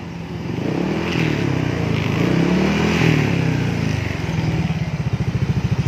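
Yamaha NMAX scooter with a bored-out original exhaust revs in an exhaust workshop, a loud, close engine swelling up and back down through a couple of throttle blips before settling into a rapid, lumpy idle putter.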